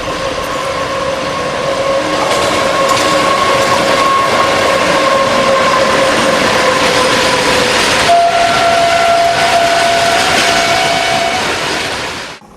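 A train at Bhabua Road railway station in Mohania, Bihar, passes close and loud for the whole stretch, a steady rumbling roar with a sustained tonal whine that shifts pitch partway through and fades slightly at the end.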